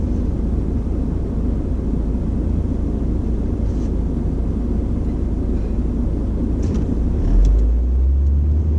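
A car drives along a snowy road in Big Bear, California, heard from inside as a loud, steady low rumble of engine and tires with a slight swell near the end and no talk.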